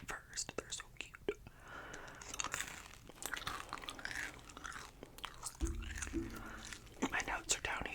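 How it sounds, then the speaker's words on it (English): Trident Vibes gum with a crunchy outer shell being chewed close to the microphone, giving soft wet chewing and small crunches in irregular bursts, mixed with quiet whispering in an intimate, hushed setting. "they have like the little shell on them, so there'll be a little crunch at first"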